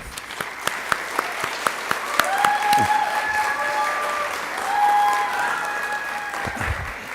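Audience applause at a nursing pinning ceremony rolls on steadily for several seconds, dense and moderately loud, with a few individual sharp claps near the start and brief voices rising above it.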